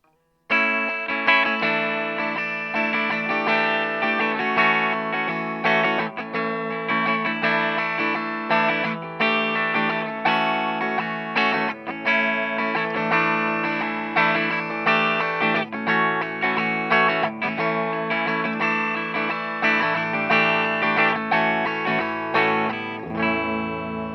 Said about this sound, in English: So this is the sound of the bridge pickup.